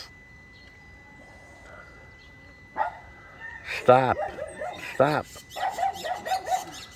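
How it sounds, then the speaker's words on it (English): A household dog in the Philippines gives several sharp barks in quick bursts, close by, with a voice speaking over and between them. "It's a very good dog."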